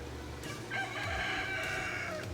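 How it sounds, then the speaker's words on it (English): A rooster crows once in a drawn-out call. It sounds somewhat distant and faint over low background noise at an outdoor home setting. "Even the rooster likes it."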